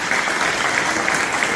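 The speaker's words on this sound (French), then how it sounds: "applaudissez encore généreusement nos lauréats et tous les autres élèves" An audience at a village Armistice Day ceremony applauds prize-winning pupils, giving a steady, moderately loud patter of many hands that holds evenly throughout.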